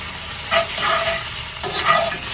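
Chopped tomato sizzling in a hot pan with sun-dried tomato and shrimp, a steady broadband frying hiss with brief swells of stirring, close and continuous with no voices.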